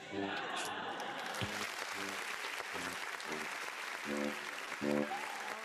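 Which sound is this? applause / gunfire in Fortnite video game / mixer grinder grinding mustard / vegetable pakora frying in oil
applause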